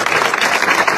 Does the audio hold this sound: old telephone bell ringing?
no